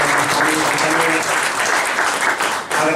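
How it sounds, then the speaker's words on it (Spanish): An audience applauds for visiting friends and comrades at a gathering of Ecuadorian assembly candidates in Stockholm, with dense, sustained clapping across the whole stretch. "Un aplauso, por supuesto, para nuestros amigos compañeros."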